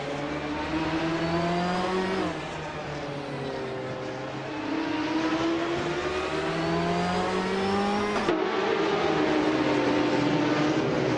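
Classic 1994 Ferrari F355 Challenge race cars in a racing game, engines revving high and steadily alone, pitch climbing and dropping through gear changes with a sharp shift near the end, several cars droning together.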